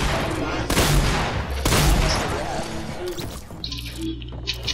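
Rapid weapon fire from Fortnite erupts in two loud bursts of quick shots, then tails off into quieter game effects and scattered sounds.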